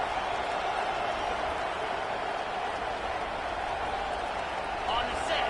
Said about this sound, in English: Now the crowd responding in the red zone, trying to help this defense.